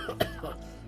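A man coughs hard once, a short harsh burst that rises briefly above a quiet, steady background hum.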